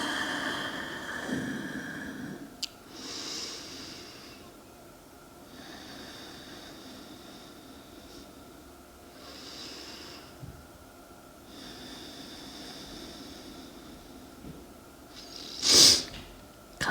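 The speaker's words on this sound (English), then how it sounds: "Couple more breaths here." Slow, deep breathing during a gentle yoga flow: long soft inhales and exhales repeat at a relaxed pace, close and quiet, with a sharper snort-like exhale near the end and no speech.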